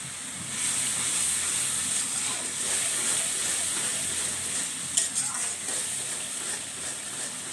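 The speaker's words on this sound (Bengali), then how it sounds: "মশলা নাড়া পড়া দিয়ে কষানো হচ্ছে" Spices sizzle and hiss steadily in a pan over a gas flame while being stirred, a loud continuous fry with a brief clink near the end.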